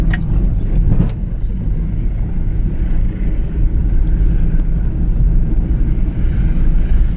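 A 4x4 car drives around the seaside town of Newquay, heard as a steady low engine and road rumble from inside the cabin, with light wind noise throughout and no talking.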